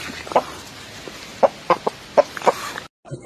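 A Shamo chicken chick clucks close by, giving about eight short, separate clucks spread unevenly over a quiet background before the sound cuts off abruptly.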